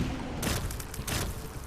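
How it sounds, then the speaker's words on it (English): Bomb explosions in the video game The Binding of Isaac, two quick bursts of crackling blasts over steady game background sound, fairly close and loud with no talk. "All of the explosions have poison clouds, but none of them do poison damage except those."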